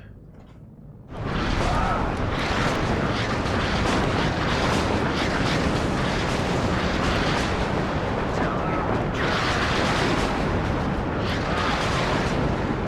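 Artillery barrage in the WARNO strategy game: a sudden onset of loud, dense, continuous rumbling and booming that fills the whole stretch without letup, heavy layered detonations blending into a roaring wall of sound.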